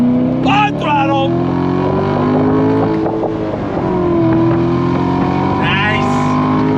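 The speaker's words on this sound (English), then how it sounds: "There's just something special about the sound coming from this V8." A Chevrolet C7 Corvette Grand Sport V8 accelerates hard on track, its engine note rising steadily with gear changes, loud and close, while a driver talks excitedly over it.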